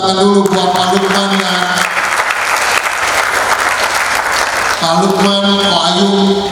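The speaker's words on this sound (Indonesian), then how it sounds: "Kita beri tepuk tangan dulu buat Pak Lukman" Audience applause at a formal address during an NLG 2023 event: steady, dense clapping swells for about three seconds between stretches of someone speaking over a PA, staying loud throughout.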